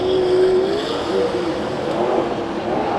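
Pro Stock race cars during a heat race at Santa Maria Raceway, a loud, continuous roar of engines with one revving note sweeping past early, set against broad track noise.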